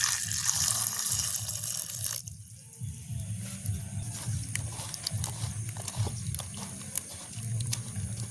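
Water splashes and sloshes as green chillies and onions are rinsed by hand, with a running tap hissing at first, then steady swishing and dripping nearby.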